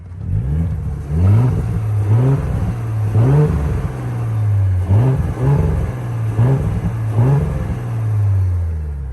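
An Audi B9 S5 with its VPS resonator deleted is revved repeatedly from idle in a steady series of short, rising throttle blips. The rumbling engine sits close and carries no talk over it.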